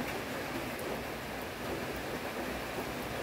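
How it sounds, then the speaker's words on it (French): Steady, moderate rain patters continuously on a roof, a soft even hiss with no voices. "La pluie n'arrête pas."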